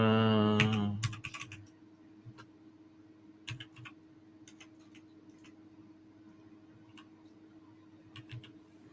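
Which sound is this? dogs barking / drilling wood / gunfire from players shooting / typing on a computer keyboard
typing on a computer keyboard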